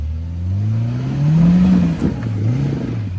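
Close, loud engine of an off-road vehicle on slate rock trail, revving up and down in long sweeps as a wheel spins against a rock without traction.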